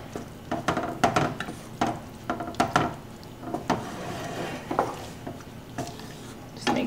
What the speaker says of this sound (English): you just kind of want to give it a good stir